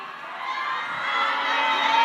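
Crowd at the Miss Universe Laos 2025 pageant final cheers and shouts loudly, a dense sustained roar of high voices building slightly over two seconds.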